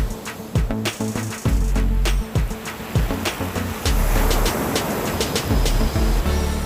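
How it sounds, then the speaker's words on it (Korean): Winter sea waves crash on Gwangalli beach in Busan, a loud, close, continuous surf roar with repeated breaking surges and hiss, with no talking over it. "파도 소리 치는 거 소리 한번 들어보세요."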